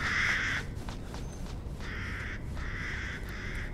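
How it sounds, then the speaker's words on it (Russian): In the horror game Resident Evil Village, a raven gives several harsh, rasping caws, one long call and then two more in close succession, over a low ambient hum. "А вот ворон."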